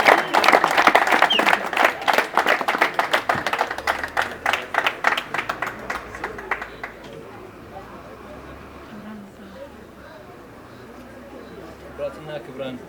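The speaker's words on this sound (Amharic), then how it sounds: "የፖፑላር ኤሌክትሮኒክስ ማርኬቲንግ ማኔጀርን አቶ ያሲን አብዱራህማንን በቀጥታ ወደ መድረክ ሞቅ ባለ ጭብጨባ ሸኙልኝ።" Warm audience applause at an awards event welcomes a marketing manager to the stage: dense, loud clapping for about seven seconds that then thins out and fades under room noise before a voice begins.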